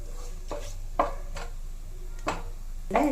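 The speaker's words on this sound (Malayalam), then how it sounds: "ഇതൊന്ന് മൂക്കട്ടെ ചെറുതായിട്ട്, ഇതിൻ്റെ ഫ്ലേവറൊക്കെ ഓയിലൊന്ന് ഇറങ്ങട്ടെ." Ingredients fry in oil in a pan while a spatula scrapes and stirs in short, regular strokes about every half second, over a low, steady background hiss.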